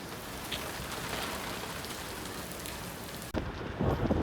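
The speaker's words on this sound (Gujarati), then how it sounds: "વરસાદનું ફૂલ જોર છે" Heavy rain pours down in a steady, dense hiss of drops that fills the whole stretch, with a sudden louder, closer splatter of water near the end and no voices.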